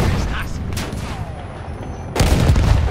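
Artillery guns fire in Battlefield 1 with a heavy booming blast near the end, following a sustained rumbling din of distant battle; loud and close throughout.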